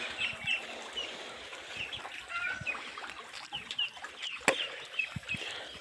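Young farm ducks about 20 to 25 days old give a steady stream of high chirping and peeping calls, with soft scattered clucks and rustling close by throughout.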